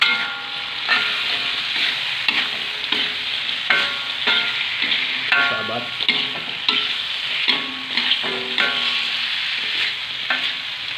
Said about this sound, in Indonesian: Kita masukkan tempe yang sudah digoreng tadi. Mantap. Baru kita aduk.